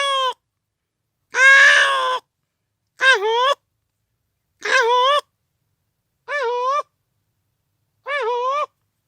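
A man imitates the call of a peacock, the national bird, with five loud, nasal, wavering cries separated by short pauses, clear and close with no background.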